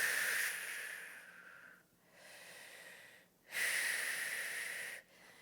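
Slow, airy breaths drawn in and pushed out during a prenatal lower-body stretching workout, close and steady, with two long exhales broken by brief pauses and no talking.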